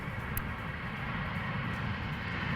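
Steady, continuous engine roar from a Tu-160 nuclear bomber during a Russian military drill, a dense low rumble holding at even loudness throughout with no voices.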